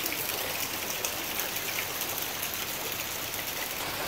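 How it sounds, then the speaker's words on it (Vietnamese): Heavy first rain of the season pours down steadily in the Mekong Delta countryside of Ben Tre, flooding around a house, a dense, constant hiss of rainfall and running water with no break. "Đây, nước kìa, nước mưa là lớn à."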